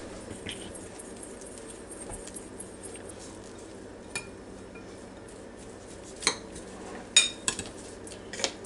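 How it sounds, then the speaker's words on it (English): A spoon works through rotisserie chicken salad with celery in a bowl, giving soft scraping and clinking with a few sharper taps against the bowl near the end, close by and fairly quiet. "Just stir this together. Blend this really well together."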